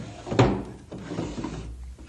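A wooden desk drawer slides open with a short scraping bump up close, followed by softer rattling and shuffling as the drawer's contents are disturbed in a quiet room.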